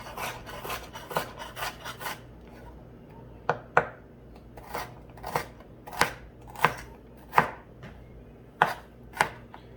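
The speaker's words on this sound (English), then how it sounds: "That's the cutting motion that I'm using." A kitchen knife rocks through vegetables for a holy trinity of onion, celery and bell pepper, making a rapid series of crisp tapping cuts on a cutting board, close and fairly quiet, spaced unevenly with short pauses between bursts.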